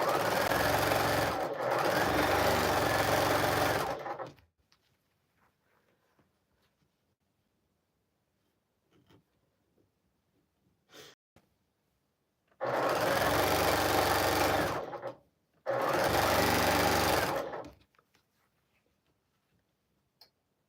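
A sewing machine stitches a quilt in three loud bursts, a short run then a pause and two more runs, with a steady rapid needle clatter and quiet gaps between.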